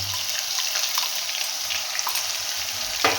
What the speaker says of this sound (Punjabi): ਗ੍ਰਾਈਂਡ ਕੀਤੇ ਹੋਏ ਪਿਆਜ਼ ਦਾ ਪੇਸਟ ਪਾਣਾ